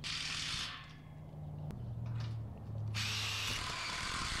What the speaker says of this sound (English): Definitely gonna want a couple impacts to build one of these.